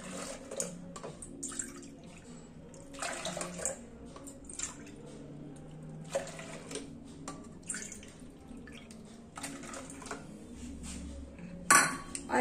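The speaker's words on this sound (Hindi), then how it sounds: "2 कटोरी आलू है तो हम इसमें 4 कटोरी पानी डालेंगे" Water is poured in bursts onto potatoes in a metal pot, splashing and dripping between clinks of utensils and cookware, close and moderately quiet, no talking.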